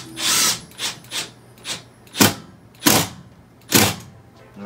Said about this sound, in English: You hear that hammer action,